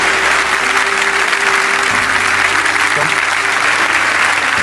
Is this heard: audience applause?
yes